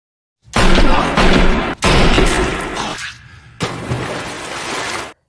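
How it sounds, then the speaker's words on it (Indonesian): Loud, sharp pistol shots ring out in quick succession, each burst crackling with shattering echoes before a short lull and another blast. "Om John menembak Ronnie dengan pistol milik Ronnie itu sendiri."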